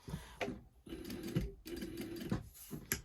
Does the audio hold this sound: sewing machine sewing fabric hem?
yes